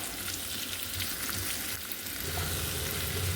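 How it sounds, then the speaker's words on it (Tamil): Medium onions sauté in a pan toward light brown, a dense continuous frying hiss with faint stirring underneath, steady and close, no talking. "அந்த வெங்காயத்தை சேர்த்துக்கிடலாம் சேர்த்து நல்லா லைட் ப்ரௌன் வர்ற வரை நல்லா இதை வதக்கி விட்டுக்கிடுவோம்"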